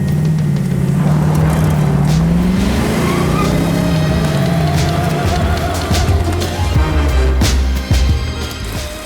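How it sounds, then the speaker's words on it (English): A 1967 Sunbeam Tiger Mk2 sports car engine roars and revs continuously, loud and close, with rising and falling pitch as it accelerates, and faint tire noise. "this is our 1967 Sunbeam Tiger Mk2"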